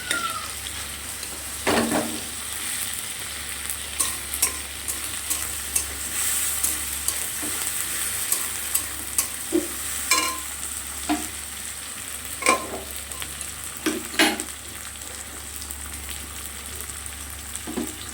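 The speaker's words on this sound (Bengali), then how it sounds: "এখানে আমি কড়াতে তেল দিয়ে পেঁয়াজ আর টমেটোটা লাল লাল করে প্রায় ভেজে নিয়েছি" Onion and tomato frying in oil in a kadai, a steady close sizzle with occasional stirring scrapes and clinks running throughout, no voices.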